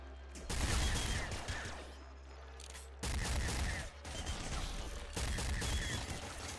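Blood Cannon fired repeatedly in the top-down shooter Nuclear Throne, heavy bursts of chunky gunfire in a dense volley, loud and continuous with a brief lull near the middle.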